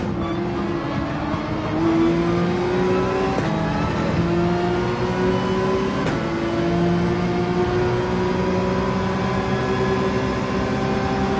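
Race car engine accelerating in Gran Turismo 7 at Willow Springs, a loud sustained whine climbing in pitch, with two brief drops at gear changes before rising again, continuous and close.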